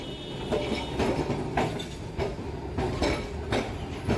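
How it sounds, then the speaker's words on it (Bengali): A Kolkata route 5 tram pulls out of its depot on rails, with a steady rumble and a regular clickety-clack of wheels crossing rail joints roughly every half second, close and fairly loud. "5 নম্বর ট্রাম বেরোচ্ছে ডিপো থেকে।"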